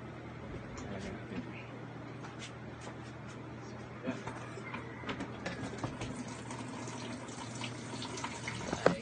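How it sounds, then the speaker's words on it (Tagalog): Water trickles and splashes steadily as it is poured into a jug being repaired for a leak, faint and close, with small clicks and knocks scattered throughout. "Nilalagyan ko siya ng tubig."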